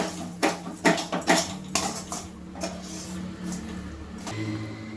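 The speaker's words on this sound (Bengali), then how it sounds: "আমি সব কিছু ডালের সঙ্গে একেবারে মিক্সড করে নেব" A spoon clinks and scrapes against a pan while spiced lentils are mixed for a dal puri filling. A burst of rapid metallic taps opens it, followed by softer, sparser scraping.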